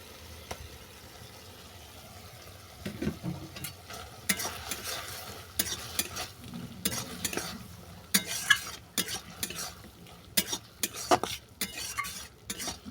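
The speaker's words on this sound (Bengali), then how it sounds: "তেতো নামানোর আগে আমি সর্ষে বাটাটাকে দিয়ে দেবো" A spoon scraping and stirring mustard paste into a bitter vendi dish with shilla leaves in a pan, giving repeated close, uneven scrapes and clatter over a soft background sizzle.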